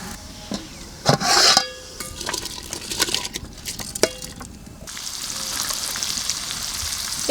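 Food hits hot mustard oil in a pan with a sharp hiss, followed by scattered clinks and stirring, then a steady, even sizzle that settles in, heard close up.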